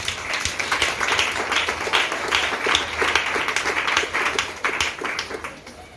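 A church congregation applauds, with dense, sustained clapping from many hands filling the space for several seconds and fading slightly at the end.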